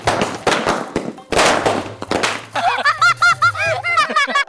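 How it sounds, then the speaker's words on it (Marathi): Firecrackers burst loudly in quick bangs and crackles, followed by a string of sharp popping pops, during a village celebration with people nearby. "तिकडे उडव की फटाके"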